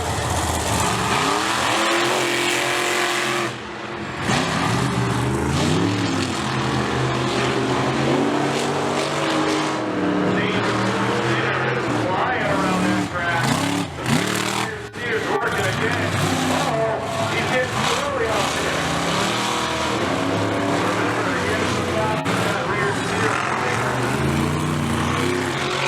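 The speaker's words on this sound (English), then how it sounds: "And we are going to launch these final two monster trucks." Two monster trucks launch and race at a monster truck show in Seekonk, Massachusetts, their engines revving and roaring loudly in repeated surges under a continuous announcer's voice.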